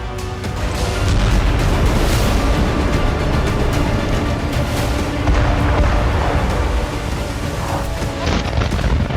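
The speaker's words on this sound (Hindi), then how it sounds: "यूक्रेन के ड्रोन अटैक के चलते सेवास्तोपोल ऑयल डिपो तबाह हो गया।" Explosions and burning at an oil depot in Sevastopol, Crimea, hit by a Ukrainian drone attack, with tanks destroyed: a sustained, loud, rumbling roar of blasts and fire, continuous and dense throughout, with no speech.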